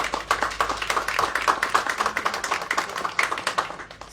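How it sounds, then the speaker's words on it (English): A small gathering at a city press event claps for frontline workers, a sparse round of distinct individual handclaps in an uneven rhythm, close and moderately loud, thinning toward the end. "So let's give them a round of applause."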